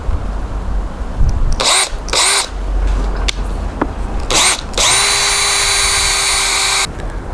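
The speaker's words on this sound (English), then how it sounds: "I'm using a drill bit to drill, but this is really cheap wood." Several short bursts of a whining power drill close up drilling a pilot hole in cheap wood, then one longer steady high-pitched run before it stops.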